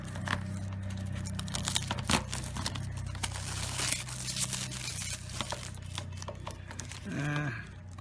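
Plastic wrapping peeled and crinkled off an Xbox One game case for Mortal Kombat X, soft close rustling and tearing in a quiet room, with scattered small handling clicks.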